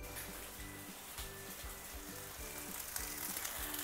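Stuffed ivy gourds sizzle in a pan of hot oil with garlic tempering, a soft steady frying crackle beneath a faint rhythmic tapping, quiet and close.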